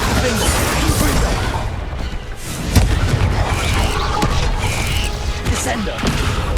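A Confringo fire spell in Hogwarts Legacy bursts into a booming explosion amid dense, continuous combat noise, with a spoken voice over the clamour.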